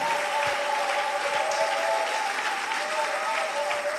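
A congregation in a church applauds, a dense, steady wash of clapping from many hands with a crowd voice and a held tone faintly under it.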